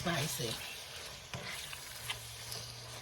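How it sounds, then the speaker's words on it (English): Chopped habanero sizzles and is stirred in a pan with a spicy beef empanada filling. The frying crackles steadily up close, with brief scraping stirs and a moment of voice at the start. "We're adding the chopped habanero."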